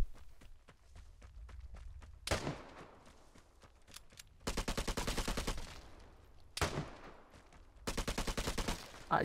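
Gunfire during a Vigor 1v1 fight: quiet stretches of footsteps give way to sharp shots and two rattling automatic bursts, loud and close, with a final shot at the end.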